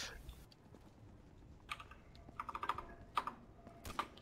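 Typing on a supposedly quiet computer keyboard: faint, close key clicks come in short irregular clusters and single taps over low background noise, with no voices.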